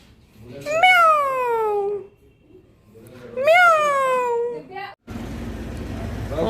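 A house cat sitting indoors gives two long, loud drawn-out meows a few seconds apart, close to the listener, followed by a burst of rustling background noise.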